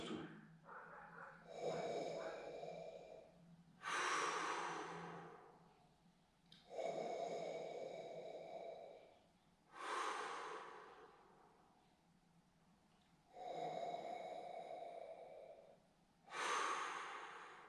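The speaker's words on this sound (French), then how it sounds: "C'est la respiration ventrale ou abdominale." Slow, deep abdominal breathing repeats in long cycles, each airy breath swelling for a couple of seconds then fading, close and intimate, about five breaths spread evenly with quiet gaps between.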